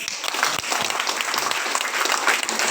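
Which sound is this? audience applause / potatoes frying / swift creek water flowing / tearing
audience applause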